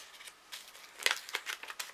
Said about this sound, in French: j'ai pris mes ciseaux